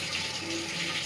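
Water gushing and rising through a pipe outdoors, a steady rushing flow with a faint tonal hum, continuous and fairly quiet over a short moment.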